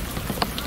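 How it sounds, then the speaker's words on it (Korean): Rain falling steadily outdoors at Gapyeong, a soft continuous patter with a few slightly louder drops, heard alone without voices. "네, 비가 오는데요."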